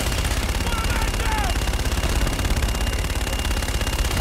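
Automatic gunfire from the Call of Duty: Infinite Warfare campaign rattles in a dense, continuous burst over a rumbling battlefield background, with faint radio-style chatter and a brief whistling tone mixed in.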